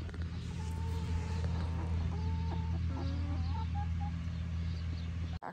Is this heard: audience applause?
no